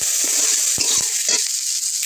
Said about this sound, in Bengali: চেরা করা কাঁচা লঙ্কা, কুচে রাখা পেঁয়াজ, একটু নেড়ে দেবো